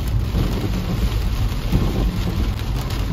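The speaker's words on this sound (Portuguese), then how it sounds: "Olha a chuva." Heavy rain pours steadily during a thunderstorm at night in Balneário Camboriú, with deep low rumbling mixed into the dense hiss.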